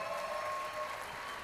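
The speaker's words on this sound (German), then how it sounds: "Bitte einen Applaus für Pablo Grande!" A television studio audience applauds for a finalist in a singing competition final, a faint, steady wash of clapping with some crowd noise.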